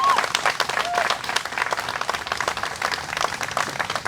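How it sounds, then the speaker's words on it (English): Audience applause for a fife and drum band from Coldwater, Mississippi, at a museum of art press event: loud, dense, steady clapping from a sizable crowd, continuing without a break and with no talk over it. "let's give another round of applause for the Rising Stars Fife and Drum Band"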